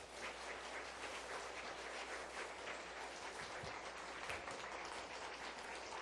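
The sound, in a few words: audience applause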